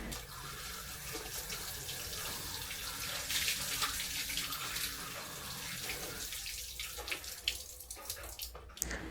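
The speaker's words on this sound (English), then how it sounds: "so I only need to rinse it with the rainwater we collected" Collected rainwater splashing and trickling as vegetables are rinsed on an island, a steady close wash of running water with small splashes and clatters near the end.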